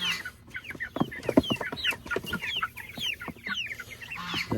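Meat bird chickens on pasture for the first time, clucking and peeping busily in a steady, close chorus of overlapping calls with no talking.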